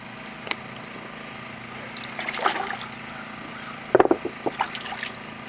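A trout being washed off with water at a rustic log cabin hunting camp in Maine: a steady low background with several brief close splashes and trickles, the strongest bursts coming near the end.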